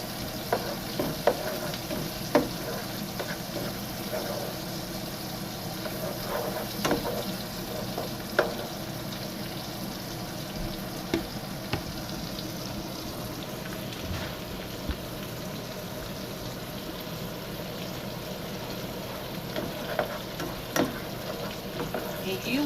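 Onions sauté in a pan for paprika chicken, giving a steady close sizzle with scattered crackles and occasional light stirring taps throughout.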